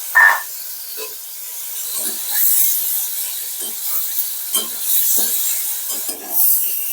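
Panch phoron spices and green chillies frying in hot oil, a soft steady hiss with a sharp crackle at the start and scattered light scraping and spitting pops, close and alone without talk.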